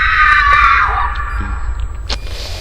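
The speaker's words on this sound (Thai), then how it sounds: "มีเสียงกรี๊ดอะ" A shrill scream rings out in the HellsResort horror map of Garry's Mod, loud and close for about a second before fading under a dark, rumbling game ambience.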